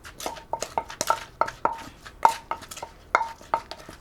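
Lao green papaya salad being pounded in a mortar: a quick, uneven series of sharp wooden knocks with some ringing clinks, roughly two or three strikes a second, close and clear, with no talk.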